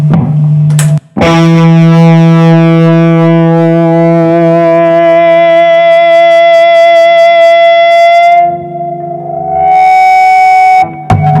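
An electric guitar through a Ratajczyk Extreme Reverb Mk 3 valve reverb rings out a single note, then a sustained chord with a lush valve reverb tail, harmonics shimmering and slowly fading.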